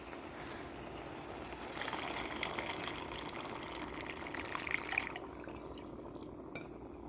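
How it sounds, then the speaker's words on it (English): Water pours and splashes into a bubbling pot of black gram (kala chana) gravy, a steady liquid rush over a soft simmer, with faint clinks near the end. "now pour the remaining water."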